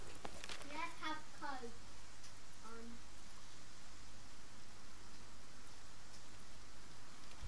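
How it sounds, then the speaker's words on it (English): Steady rain falls outside, a constant even hiss throughout, with a voice briefly audible near the start. "It's raining outside, yes."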